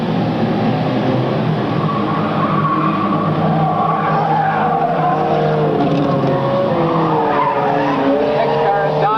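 Race cars running side by side on an oval track roar steadily with engines droning loud and close and tires squealing, while an announcer calls the action over the noise.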